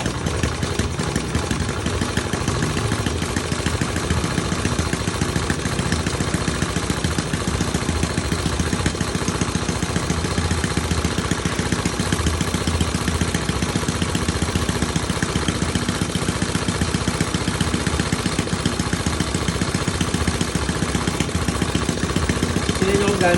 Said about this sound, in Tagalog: Then, start natin yung motor after that.